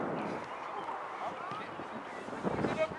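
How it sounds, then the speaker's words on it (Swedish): Wind buffets the microphone in a low, rumbling roar at an outdoor girls' academy football match in Solna between Boo IS and AIK, with voices carrying under the gusts. "Kallt och blåsigt här i Solna."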